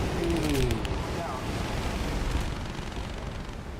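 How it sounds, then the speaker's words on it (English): Anti-aircraft fire from ground guns in War Thunder rattles steadily under a constant loud roar of aircraft engine, with no pauses through the stretch. "That's where I'm getting shot at. Probably by anti-aircraft on the ground"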